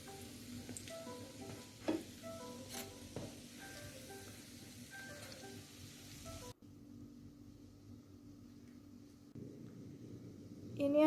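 Donuts fry in hot oil with a steady, crackling sizzle that continues throughout, dropping to a quieter bubbling partway through.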